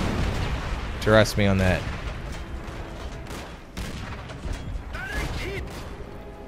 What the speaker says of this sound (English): I'm shooting, man. I am shooting as fast as I can shoot.